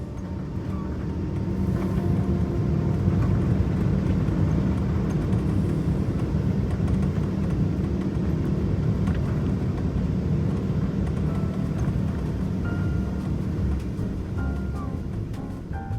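A Lufthansa Airbus A380 rolls down the runway for takeoff, its engines producing a loud, steady, broad roar that holds evenly for the whole stretch with no pauses.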